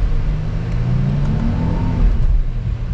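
A 2021 Genesis G80 turbocharged sedan accelerates, its engine giving a steady, fairly loud low rumble that rises slightly through a continuous pull, heard from inside the car with no talking.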